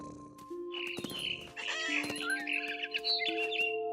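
Chirps and high whistles from a mother bird in the video game What Remains of Edith Finch repeat over sustained electronic tones, with a somewhat synthetic, game-like quality.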